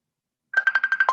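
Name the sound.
phone ringtone from an incoming call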